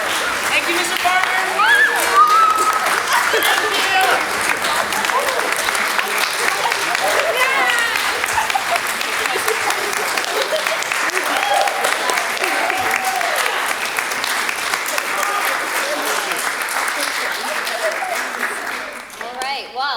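A full room claps and cheers for the young actors in a school play. The clapping is loud and constant, with voices mingled in, and it tapers off at the end.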